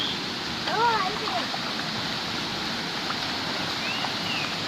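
A forest waterfall and stream in the Konkan pour with a steady, dense rushing roar close by, while a voice briefly sounds over the water.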